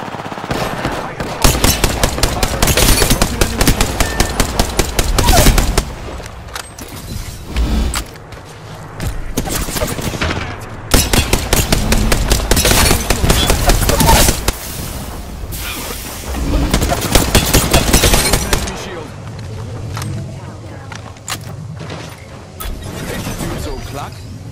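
Rampage LMG fired in a sci-fi shooter video game, heavy automatic bursts in long loud stretches with pauses between, under occasional game voice lines.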